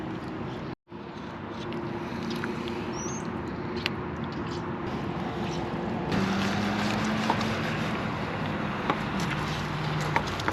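Constant loud highway traffic roar from nearby Interstate 25 fills a campground, a broad steady rumble with faint wind, and no one speaking.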